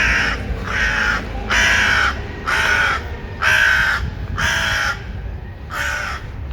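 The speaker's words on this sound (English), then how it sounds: "Crows, always a good sign." Crows cawing outdoors, seven loud harsh caws in an even, repeating rhythm over a low background rumble.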